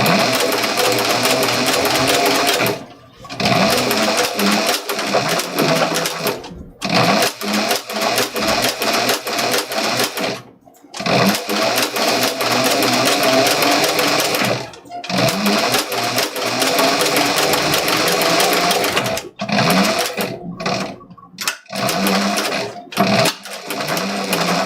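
A sewing machine stitches a backpack in long continuous runs with short pauses between, loud and close, with a steady whirring rattle and occasional talk.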